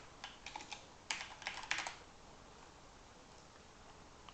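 Typing on a computer keyboard while working in Illustrator: two quick bursts of close key clicks, the first a light patter and the second louder, followed by near silence.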